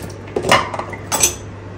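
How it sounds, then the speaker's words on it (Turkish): Dishes and pots clink as they are unloaded after washing, giving two or three brief, moderately loud knocks and rattles up close over a steady low hum. "Bulaşıklarım fazla yoktu zaten. Bunları boşaltırız."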